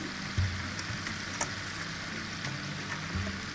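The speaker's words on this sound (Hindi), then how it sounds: "अब हम इसमें मैक्रोनीज़ ऐड करेंगे और इसको अच्छी तरह से मिक्स करेंगे।" Macaroni being stirred with ketchup in a hot frying pan, a steady loud sizzle with a few scraping stir sounds and clinks close by, no talking.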